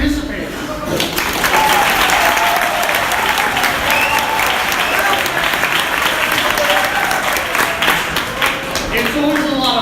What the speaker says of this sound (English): round of applause for everyone that's here today participating